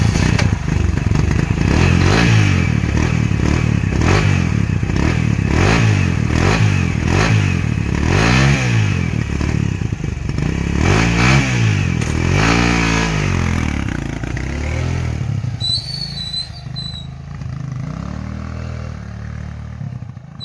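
A motorcycle with a cold engine labours to start, its motor chugging and surging loudly and unevenly up close for several seconds, then revs away and fades into quiet with faint distant sounds.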